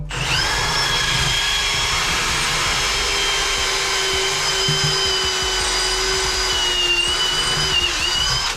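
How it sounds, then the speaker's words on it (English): A Milwaukee Fuel brushless cordless hammer drill runs steadily at high speed throughout, a continuous whining buzz with slight pitch dips as it bores, loud and close. "I'm using a Milwaukee fuel brushless. It's a hammer drill."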